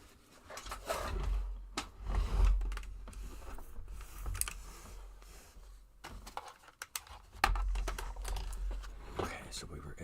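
Computer keyboard typed on in bursts of clicky keystrokes during a coding session, moderately close, with quiet pauses between runs.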